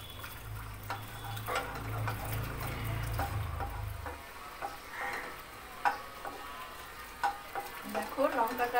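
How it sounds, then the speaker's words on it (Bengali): Two chillies fry in about a tablespoon of white cooking oil for a grape chutney, giving a soft steady sizzle with light ticking and scraping over a low hum that fades halfway through. "দেখো লঙ্কাটা, লঙ্কা দুটো আমার ভাজা হয়ে যাচ্ছে।"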